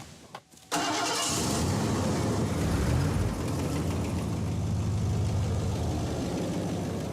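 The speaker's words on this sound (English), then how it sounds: "why don't we take this car to 40 miles an hour, I will hit the brakes" A car is driven up to 40 miles an hour for a braking test, its engine cutting in after a brief quiet start and then holding a loud, steady roar with road noise throughout.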